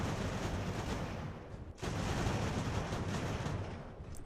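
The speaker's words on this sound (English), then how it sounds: "I really like these mortars" Mortar batteries fire in a naval battle from Ultimate Admiral: Age of Sail, their repeated booming reports blending into a dense, continuous barrage with one brief lull partway through.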